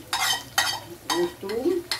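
Eggplant with tomato sauce, vinegar and garlic being stirred in a pan, four quick scraping strokes at a steady pace over a soft sizzle, close up.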